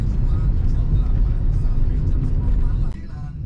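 Steady low engine and road drone inside a manual-transmission Toyota Sienta 1500cc while driving, heavy and continuous throughout with a slight dip near the end.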